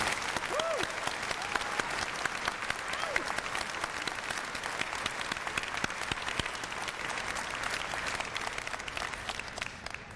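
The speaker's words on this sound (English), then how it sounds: "So let's give our incoming president a nice warm round of applause." A large convocation audience at a university ceremony applauds the incoming president, dense and sustained clapping filling the hall at an even level throughout.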